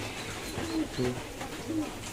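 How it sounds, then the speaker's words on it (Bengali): Check satin fancy pigeons coo softly in a loft during the monsoon, a few low throaty calls close by over faint background noise, with a voice talking. "এই যে আমাদের চেকসাটিন পেয়ারটা বর্ষার জন্য মল্টিং হচ্ছে।"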